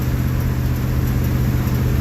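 A car engine runs steadily at idle inside the cabin, a continuous low rumble with constant loudness and no speech over it.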